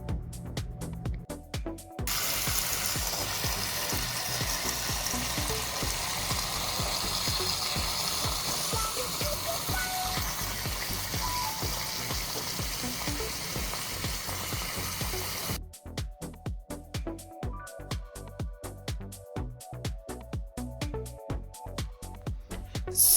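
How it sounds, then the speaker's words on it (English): Tomatoes warming and boiling in a pot sizzle and bubble in a steady hiss for most of the stretch, then give way to choppier bubbling and clinks near the end, close up with no talking. "get these all warmed up and boiling, and then I'm going to take all the skins off"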